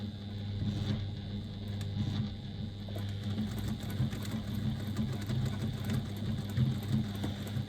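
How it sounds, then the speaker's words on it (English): A sewing machine stitches a bag seam at a quarter-inch seam allowance, a steady low mechanical whir with a fast, even patter that runs continuously for several seconds. "I'm going to start stitching right at the beginning from quarter of an inch seam allowance"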